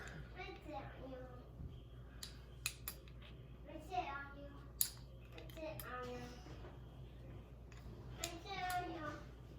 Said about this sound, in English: You can probably hear my 3-year-old in the background.